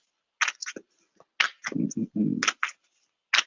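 Deck of cards being shuffled by hand, a series of short papery riffles and flicks in quick bursts, with soft low voice-like murmurs mixed in.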